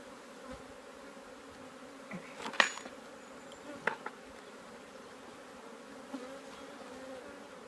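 Honey bees hum around an open hive during queen rearing, a faint, steady low buzz with a few soft knocks and clicks from handling the frames.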